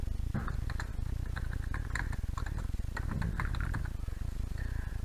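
Keys clatter in quick irregular bursts on a computer keyboard while web content is being entered in Dreamweaver, close and continuous over a low steady hum.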